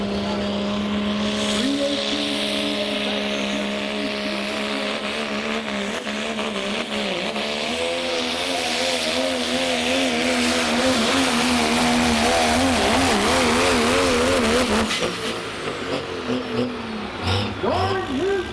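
A turbocharged pulling truck's engine roars at a truck pull on a speedway track at night, loud and sustained with a rising, wavering pitch before easing near the end.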